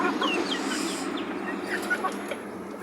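Chickens from a gamefowl farm bloodline, a grown offspring and its mother, cluck and chirp in scattered short calls over steady farmyard background noise, fairly close, with no talking.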